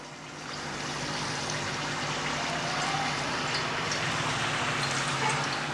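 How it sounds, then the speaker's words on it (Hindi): Nargisi kofta fry in hot oil over medium heat with a soft, continuous sizzling crackle that rises in the first second and then holds steady and moderately faint. "अब मैं इसके अंदर सारे ये फ्राई कर लूँगी।"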